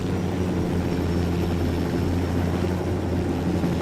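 A loud, steady Apache helicopter rotor thrum from the video game Ghost Recon Wildlands, with a deep rhythmic beat and engine whine, continuous throughout, close by.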